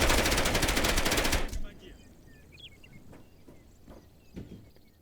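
Rapid automatic gunfire in a first-person shooter video game match, a loud sustained burst that stops abruptly, followed by quieter scattered game sounds and a player talking.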